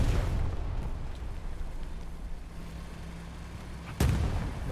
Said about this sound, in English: And also a medium Sherman pushing the point, supported by artillery, I believe.